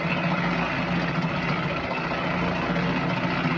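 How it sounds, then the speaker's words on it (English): A Harbor Freight concrete mixer runs loud and steady on a farm while mixing concrete for posts, a dense continuous mechanical drone and churning rumble with no pauses. "That's the one thing I would say about the Harbor Freight mixer is it is kind of loud."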